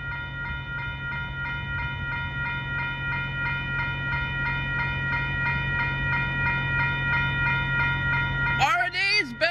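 A freight train stands across Ninth Street in Rochelle, Illinois, while the crossing bells ring on and on in a steady, loud, evenly spaced pattern. A low engine rumble runs underneath, and a voice cuts in near the end.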